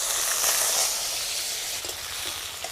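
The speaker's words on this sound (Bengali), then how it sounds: "আবারও কিছুটা তেল দিয়ে দেব শুকনো লঙ্কা ছেঁড়া তেজপাতা পেঁয়াজ কুচানো" Dried chilli, torn bay leaf and chopped onion frying in hot oil, a loud continuous sizzling hiss that eases slightly, with faint clicks of stirring.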